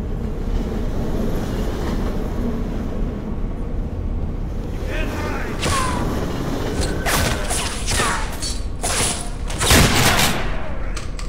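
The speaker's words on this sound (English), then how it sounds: "can we talk about how much I love this shotgun?" A shotgun fires in the horror video game Underhell, with several sharp, loud blasts in the latter half standing out over a constant rumbling game ambience, one louder blast near the end.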